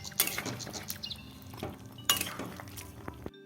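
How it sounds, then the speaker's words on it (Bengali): Ginger-garlic paste being stirred into chicken pieces in a kadai, with a spoon scraping and clinking against the metal pan in an uneven rhythm, some sharper knocks near the start and middle, close and moderately loud with no talking. "আদা রসুনের পেস্টটা দিয়ে ভালো করে চিকেনের সঙ্গে মিশিয়ে নেব।"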